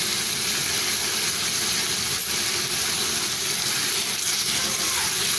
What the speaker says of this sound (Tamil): போட்டு அப்படியே கொஞ்சம் வதக்கலாம்.